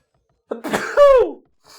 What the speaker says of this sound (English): Sorry about the sneeze there.